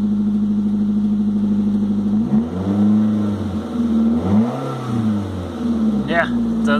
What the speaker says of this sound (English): The exhaust is a little loud. I think the idle should come down just a little bit once it gets warmed up.